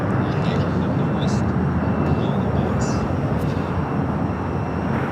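An airliner takes off from runway 25 right at LAX, a broad steady engine roar holding loud and constant throughout with faint radio chatter in the background.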